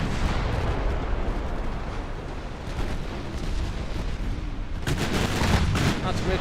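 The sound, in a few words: naval gunfire from warships in video game Ultimate Admiral Dreadnoughts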